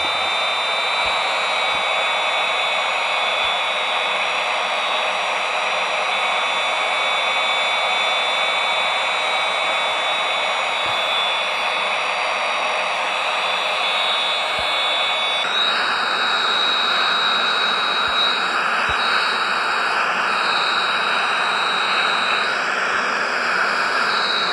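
An F-18 carrier-borne jet taxis at Honolulu International Airport, its engine a steady, loud, high-pitched whine and roar that shifts tone partway through as the thrust changes.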